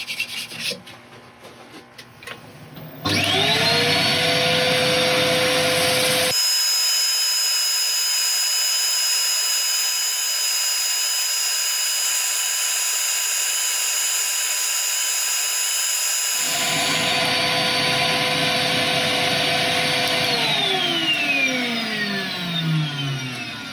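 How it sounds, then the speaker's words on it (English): A lathe spins steadily with a loud motor whine and a harsh rubbing rasp of sandpaper against a turning segmented piece of ebony, oak and sapele, winding down at the end. "Yep, time for sanding."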